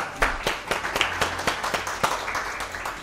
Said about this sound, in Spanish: Sharon, un aplauso.